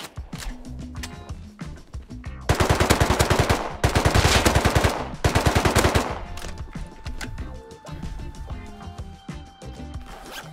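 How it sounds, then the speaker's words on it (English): Bursts of rapid automatic AK rifle fire in the Rust video game, three loud, dense volleys in quick succession, set between quieter stretches of game ambience. "How many times I have to shoot that AK guy to kill him"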